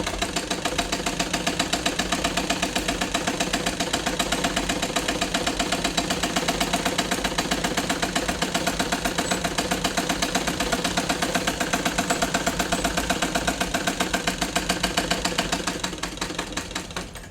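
A sewing machine stitching a straight seam, its needle mechanism driving a fast, steady, even rattle that runs loud and unbroken before tapering off at the end, with no voices.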